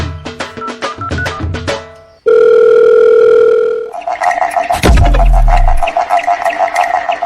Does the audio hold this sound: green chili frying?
no